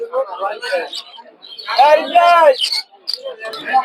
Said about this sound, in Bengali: এইদিকে কিছু গিরিবাস কবুতর আছে গিরিবাস রেসার প্রচুর পরিমাণে কবুতর পাবে